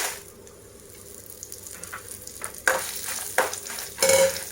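Food fries in a pan with a soft, close sizzle that gets louder partway through, broken by several sharp scraping stirs, with no voices.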